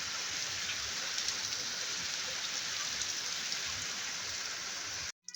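Steady hail and rain falling in cold winter weather in Pakistan, a dense even patter on surfaces throughout, nearby and moderately loud, cutting off abruptly at the end.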